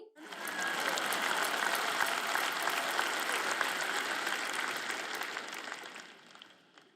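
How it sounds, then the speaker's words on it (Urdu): A conference audience at a Christian teaching event breaks into sustained applause that fills the room evenly, swelling quickly and holding steady for several seconds before tapering off at the end. "آپ تالیاں بجاتے ہیں، آپ بلند آواز کرتے ہیں"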